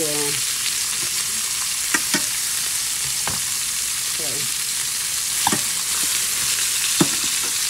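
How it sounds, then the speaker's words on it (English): Steak pan-fries in a skillet for a New Year's dinner, giving a constant close sizzle and hiss with a few sharp pops and spatula clicks scattered throughout. "I'm just going to have us some pan-fried steak to go along with that"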